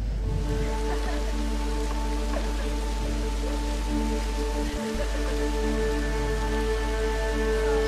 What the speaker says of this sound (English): Rain! We're gonna have water!